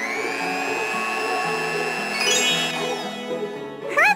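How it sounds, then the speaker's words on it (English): A steady whirring electric mixer beats cake batter in a Strawberry Shortcake bakery kids' game, a continuous mechanical hum with shifting tones that ends with a short rising chime-like flourish. "To mix even quicker, use Orange Blossom's electric mixer."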